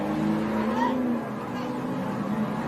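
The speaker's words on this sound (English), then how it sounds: "And the trucks are going by under caution." Race trucks roll past under caution at a dirt track, a continuous moderate engine drone with steady tire and motor noise and no sharp revving.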